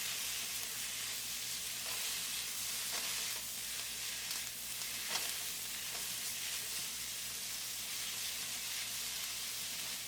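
Spring onions sizzling in a pan with chicken fajita mixture, a continuous hissing fry with occasional scraping stirs, close and steady.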